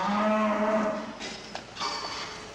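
Cows mooing on a dairy farm in Emilia, Italy: one long, loud, close low moo opening the clip, followed by shorter, quieter moos and faint barn noises.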